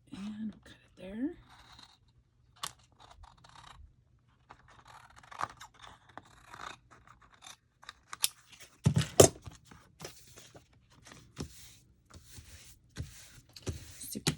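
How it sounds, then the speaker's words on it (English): Scissors snip through scraps of patterned paper for a handmade Christmas card, giving a run of short, crisp cuts and rustles, close and fairly quiet, with soft handling noises between the snips. "And we'll cut it there."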